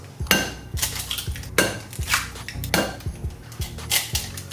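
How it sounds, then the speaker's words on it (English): Eggs being whisked into a smooth milk batter, with a utensil clattering rhythmically against a bowl in repeated bursts of close, bright scraping and tapping. "We're just gonna whisk that out."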